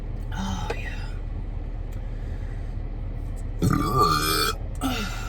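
A loud, drawn-out burp from someone eating a Habit double cheeseburger and onion rings inside a car, followed by a second shorter burp, over steady low engine or cabin rumble.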